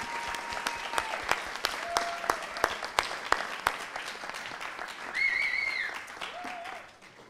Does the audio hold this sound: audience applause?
yes